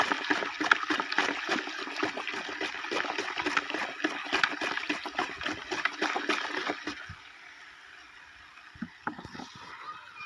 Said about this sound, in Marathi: आता हे मोर्चुदा आहे ते हे चुन्यामध्ये ओतून हलवत घ्यायचं आहे